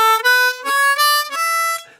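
Clean single harmonica notes ring out one after another, a close, bright reedy line of several sustained tones with short breath gaps, played alone.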